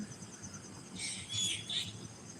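Faint insect hum with a few quick bird chirps in the middle, high and thin, some distance away in a quiet outdoor setting at early morning.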